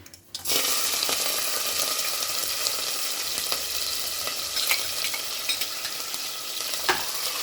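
Curry leaves, dried red chili, ginger, green chilies, garlic and bay leaf hit hot oil for Kathiyawadi khichdi, bursting into a loud, close, continuous sizzle after a brief quiet start, with occasional stirring knocks.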